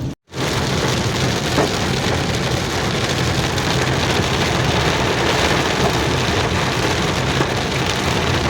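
Steady, heavy rain pours down during a sudden afternoon downpour near Palitana, a dense unbroken hiss that runs close and loud throughout after a brief gap at the very start, with no voices.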